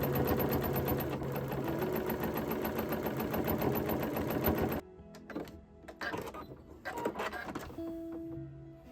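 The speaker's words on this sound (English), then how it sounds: "I'm going to sew 5/8 seam allowance all the way around." Sewing machine stitching a 5/8 seam around a quilted fabric bowl cover, running steadily and close for about five seconds, then stopping and giving way to quieter handling noises of fabric and the machine.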